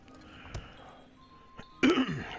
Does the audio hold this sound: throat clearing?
yes